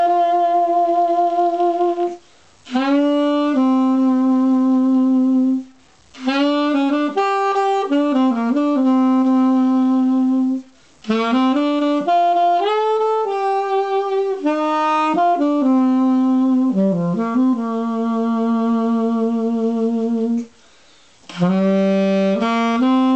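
An Amsterdam Winds alto saxophone plays a melodic phrase in sustained, bright tones, with several short pauses between lines; close, clear and solo, with no talking.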